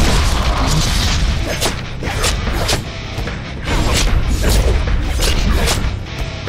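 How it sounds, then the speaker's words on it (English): Grenade explosion in the Deadpool video game: loud, heavy booming blasts with a rumbling low end, several sharp bursts in quick succession over a continuous roar of game noise. "I am throwing a grenade!"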